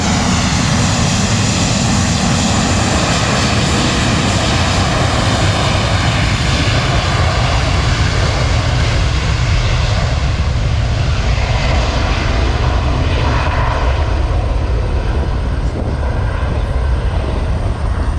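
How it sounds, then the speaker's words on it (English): Loud, continuous jet engine roar from a departing Airbus A320 at takeoff power, a dense rumbling rush that holds steady and close for the whole stretch. "Sounds like maximum power on that A320 right now."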